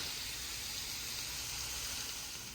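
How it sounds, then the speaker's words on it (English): Lamb karahi simmers and sautés in a pan, a steady, soft broadband sizzle and hiss holding evenly throughout with no voices. "I'm gonna let it simmer and saute a little"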